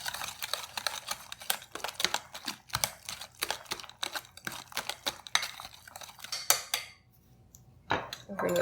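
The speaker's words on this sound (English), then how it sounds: "And it'll take a little longer to stir, but I guarantee you this is a great tool." Thick hummingbird cake batter stirred with a spatula in a bowl, making dense irregular clicking and scraping strokes, close and steady, ending in a brief pause and a final scrape.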